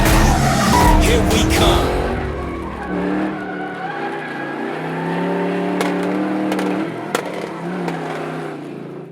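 A borrowed race car launches off the line with wheelspin, engine roaring loud and close with tire noise, then settling into a steady drone through a gear change with brief sharp squeaks; a voice speaks briefly at the start.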